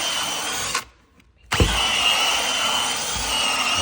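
A 175 carpet cleaning floor machine fitted with a disc head working a carpet, a loud continuous motor whir that cuts out briefly, then spins back up with a thump and runs steadily again.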